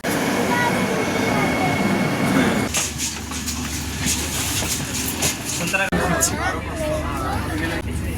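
Inside a Vande Bharat train in motion, a steady rumbling ride noise with rail clatter and rattles, people talking in the background over it.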